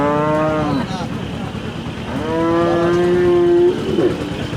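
Cattle lowing at a rural livestock market in the evening, two long drawn-out moos with strong harmonics, one early and one after a pause, loud and close over a murmuring crowd.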